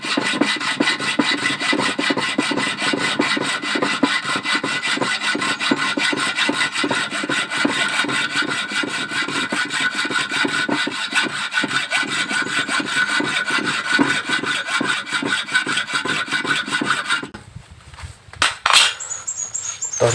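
A hand saw cuts steadily through a stripped crankcase cover bolt on a Honda Fino scooter: close, continuous rasping strokes in an even rhythm, ending with a few sharp knocks and scrapes.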